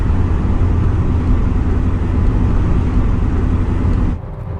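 A 1971 Ford F100 pickup with a supercharged Coyote engine and 6R80 transmission cruises along, a loud, steady low rumble of engine and road noise heard from inside the cab that drops away abruptly near the end.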